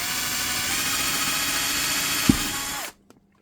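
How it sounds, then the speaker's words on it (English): A power drill with a 3mm bit bores through a steel plate on a 1/14-scale CAT 973K model, whining steadily up close, with a brief knock as the bit breaks through before the motor cuts off into silence. "And this is a 3mm drill. And I'm drilling all the way through."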